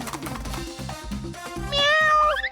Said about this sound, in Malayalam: അയ്യോ, പൂച്ച കുറുകെ ചാടി